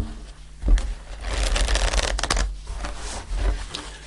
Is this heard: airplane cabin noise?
no